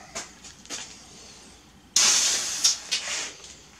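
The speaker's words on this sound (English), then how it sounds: "this stuff sprays out totally different than a regular can" Rust-Oleum Turbo spray paint hisses from a can onto an H6-swapped Subaru: a few brief, soft spray bursts, then one loud sustained blast with pulsing surges, close by and without talk.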